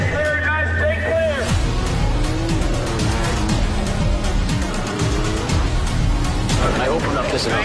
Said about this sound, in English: three cars coming down the road fast